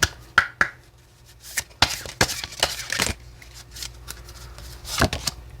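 A deck of oracle cards is shuffled for a tarot reading, giving crisp riffling and slapping bursts at an uneven pace, close and moderately loud, with no one speaking.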